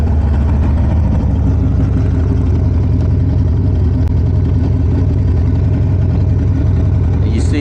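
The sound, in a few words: Harley-Davidson Sportster 48 motorcycle engine starting and idling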